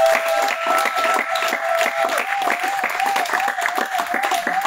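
A church congregation applauds and acclaims the Lord in steady, continuous clapping that fills the room, with voices and a sustained musical tone running beneath it.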